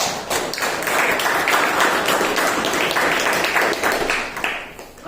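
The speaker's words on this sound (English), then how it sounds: "So a big round of applause for PM Harsh." At a Toastmasters club meeting, the audience claps loudly and densely for several seconds, the applause close and continuous before tapering slightly at the end.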